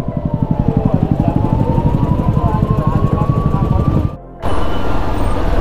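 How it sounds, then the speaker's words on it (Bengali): A 125cc motorcycle engine putters with a rapid, steady pulsing beat as it edges past a long traffic jam, loud and close. The engine briefly cuts near the end before resuming alongside a faint, distant horn. "বাইক বলে সাইড থেকে বেরিয়ে যাচ্ছি"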